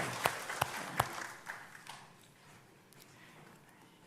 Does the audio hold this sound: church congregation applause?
yes